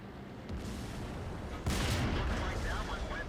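Artillery fire in World of Tanks, with a steady background of battle rumble that then gives way to a sudden, louder blast and its rolling aftermath, all fairly close and full.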